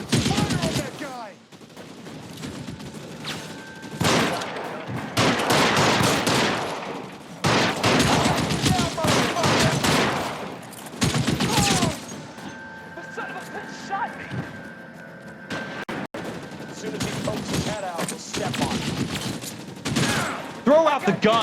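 Gunfire rings out in the video game L.A. Noire, loud bursts and volleys of shots in irregular clusters with pauses between, while voices shout and talk over the shooting.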